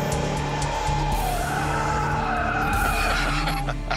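A restored Ford Mustang drives up with a loud, steady engine drone whose pitch wavers slightly as it nears, accompanied by constant tire and road noise and no talking.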